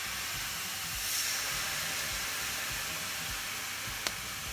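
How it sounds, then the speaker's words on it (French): Soy sauce poured into a hot pan of fish hisses into a steady, close steam sizzle that holds throughout, with a single sharp click near the end. "je vais mettre de la sauce soja et on va déglacer"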